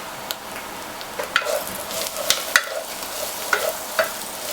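Spiced daal frying in a pan as turmeric and chili powder are stirred in, with a steady sizzle broken by sharp utensil clicks and scrapes against the pot over several seconds, close and alone.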